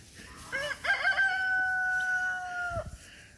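A rooster crows once, a long drawn-out call rising and then holding steady, over faint background rumble with no talking.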